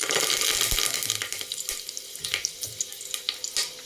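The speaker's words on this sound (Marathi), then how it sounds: "आता फोडणीसाठी आपण पहिले 3-4 कढीपत्त्याची फोडणी देणार आहोत" Three or four curry leaves dropped into hot oil for tempering give a loud, bright crackling sizzle that bursts at first, then settles into sharp intermittent pops and spits. No one speaks.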